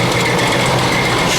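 A 2000 Ford Expedition 4.6 engine running with a bad timing chain rattle, a loud, dense, continuous mechanical clatter and whir close up with no talking.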